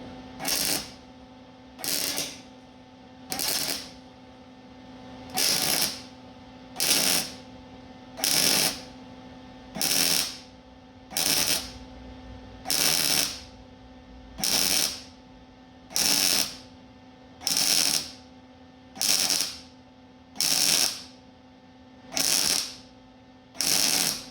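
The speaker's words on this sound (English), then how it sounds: "All right, let's weld this side up." Someone is stitch-welding a 1948 Chevy truck in a steady series of short crackling welding bursts about every second and a half, with a constant electrical hum underneath and no voices.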